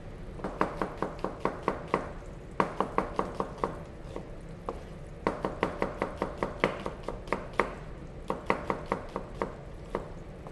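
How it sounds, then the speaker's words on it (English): Rapid knife chops on a cutting board while vegetables are sliced for a pan: sharp, evenly spaced taps in quick bursts with short pauses between runs, close and clear with no talking. "now we're just gonna cut through these real quick and throw them right into the pan"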